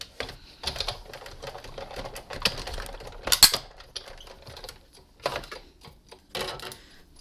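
A Big Shot die-cutting machine feeds designer paper through its rollers, giving a series of rapid, close clicking and ratcheting bursts that come in uneven spurts with short pauses between them.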